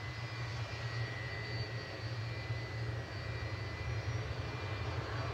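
A 34-year-old Boeing 757-200 jet airliner departs Manchester Airport bound for Bodrum, its engines a steady, distant roar with a low rumble and a thin high whine holding evenly throughout, no voices.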